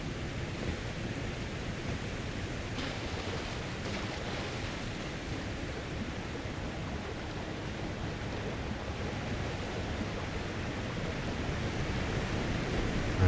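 Waterfall at Castle Ensis in Shadow of the Erdtree: a steady, broad rush of falling water, even and continuous at moderate level, with no other sounds over it.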